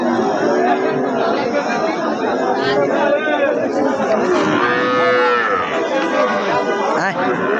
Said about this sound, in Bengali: প্রচুর পরিমাণ গরু, প্রচুর